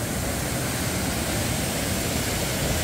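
Ongnyang Falls in Korea's Baegaksan mountains pours down through rocks, a steady loud full rush of water that fills the scene with constant roaring noise and no pauses.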